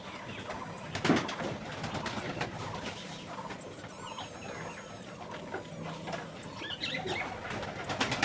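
Pigeons coo softly and repeatedly amid a busy, cluttered background, with a brief louder knock early on and no speech.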